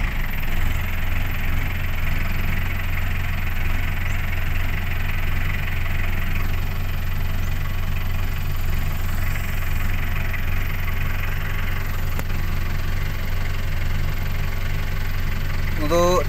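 Chevrolet LUV station wagon engine idling steadily at close range while the throttle is adjusted, a continuous low rumble with a faint knocking texture running unbroken throughout.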